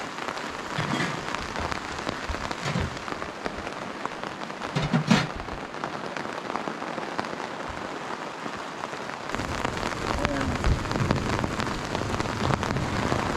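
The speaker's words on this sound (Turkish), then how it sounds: "Evet yağmur yağmaya başladı." Rain patters steadily on the fabric of an Air Seconds 5.2 tent at a creekside campsite, a dense close drumming with brief louder splashes and no talking.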